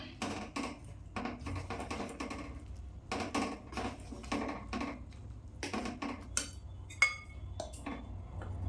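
Rose pithe batter of rice flour being stirred in a pan gives quiet, irregular scraping and clinking of a utensil against metal, in short bursts with a faint background hum.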